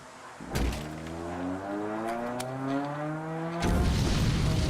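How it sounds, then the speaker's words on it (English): A car passes on a highway outside, heard as a loud, droning engine tone that shifts in pitch, opening and ending with heavy thuds that swell into a broad roar. "that's just a car on the highway"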